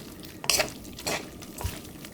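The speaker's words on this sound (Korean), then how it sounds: "살짝 볶아놓은 어묵에다가 청양고추, 대파 썰은 걸 넣으세요. 그리고 볶아주세요." Fish cake being stir-fried with cheongyang chili and green onion in a pan, with a few scraping, clattering utensil strokes over a soft sizzling hiss, close and moderately loud, no voices.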